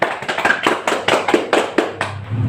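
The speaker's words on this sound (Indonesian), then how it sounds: "Beri tepuk tangan untuk kelompok yang sudah presentasi." A small classroom group claps for classmates who have just finished a group presentation in a seventh-grade lesson, producing quick, uneven bursts of close hand claps with a loose rhythm that tapers off near the end.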